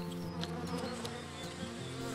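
A honey bee colony in a hive hums with a steady, dense droning buzz, continuous and close, with faint higher buzzing of individual bees drifting over it.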